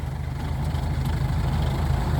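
Kubota M6040 tractor engine labouring steadily in wet mud, a continuous heavy low rumble with a strong throbbing beat, close and loud throughout with no talk.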